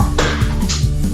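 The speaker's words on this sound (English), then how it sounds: "my dog is barking" A dog barking indoors near an open window, several quick, close barks in a short burst over a low steady hum.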